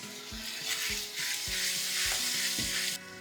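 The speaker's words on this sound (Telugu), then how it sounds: "కొంచెం వాటర్ మిక్స్ చేస్తున్నా," Kadai paneer masala with tomato puree sizzles loudly in a pan while a little water is stirred in, a steady bright hiss broken by repeated low scraping strokes of the spoon, with no voices.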